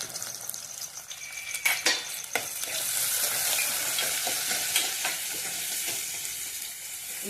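Bitter gourd (boda kakarakaya) pieces frying in a pan give a dense, steady sizzle, with a few sharp clinks of stirring early on and the hiss swelling and holding loud after.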